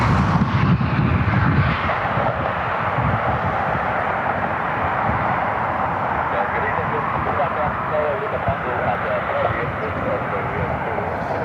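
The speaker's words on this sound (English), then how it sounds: "JetBlue 541 turning final. They're about to pass over downtown. A220 inbound from Boston." JetBlue Airbus A220 airliner on final approach over downtown Cleveland, a steady broadband engine roar that swells early and then holds as a continuous drone, with people talking over it.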